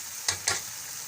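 Taro pieces dropped into spice masala frying in a pan for masala arvi, giving two quick sizzling bursts close by, with no talking.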